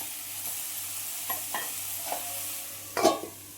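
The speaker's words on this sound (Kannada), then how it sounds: "ಹಾಕಿ ಒಂದು ಮಿಕ್ಸ್ ಕೊಟ್ಬಿಟ್ಟು ಒಂದು ಸ್ವಲ್ಪ ಹೊತ್ತು ಮುಚ್ಚಿಡೋಣ" Chopped capsicum with turmeric is stirred in a frying pan, a faint sizzle running underneath a few soft scrapes and one louder clatter near the end.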